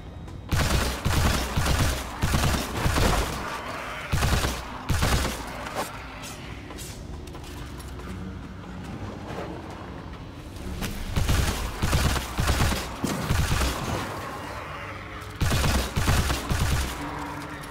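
Firearms fire in the video game Immortal: Unchained as repeated bursts of loud, rapid gunshots, with pauses between volleys and a quieter mechanical stretch in the middle.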